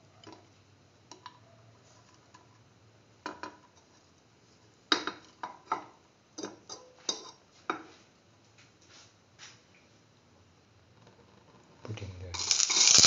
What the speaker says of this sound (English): Spread the oil in the pan.